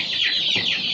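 Village chickens kept in a box-style coop on a poultry farm, clucking steadily and close by with a dense, continuous chatter throughout the short stretch, no talking heard.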